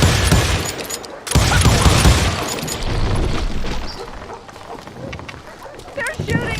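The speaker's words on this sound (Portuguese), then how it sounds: "They're shooting in the street!" Rapid gunfire crackles through a Wild West street in the video game Call of Juarez Gunslinger, with loud bursts and booms packed together and a voice calling out over the shooting.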